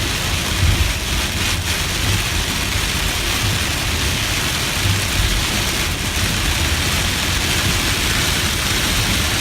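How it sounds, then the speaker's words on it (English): Heavy rain pounds steadily around a car driving home, with a dense, loud, unbroken roar and low rumbles of thunder underneath. "Rain all the way home."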